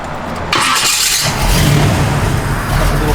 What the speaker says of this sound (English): I think you're gonna like the sound here too when Nathan fires it up